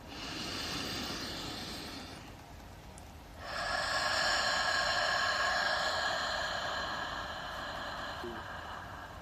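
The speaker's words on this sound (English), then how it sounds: "And breathe." Slow, deep breathing during a guided meditation: a long, airy hiss that swells partway through and holds steady, close and alone with no talking.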